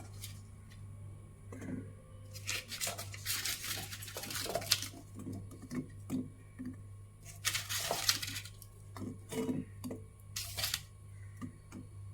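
Gulab jamun balls dropped one by one into a pot of sugar syrup, giving a series of soft, close clinks and plops spread over the clip. Pauses separate them, and a steady low hum runs underneath.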